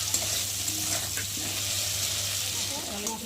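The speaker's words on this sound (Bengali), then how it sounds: "মশলার সঙ্গে আলুটা ভাজা ভাজা হয়ে গেছে দেখতে পাচ্ছ, আর মশলা থেকে তেল ছেড়েও দিয়েছে।" Potatoes frying in oil with a ginger and cumin spice paste, a soft steady sizzle with a few stirring scrapes, faint and close, with a low hum beneath.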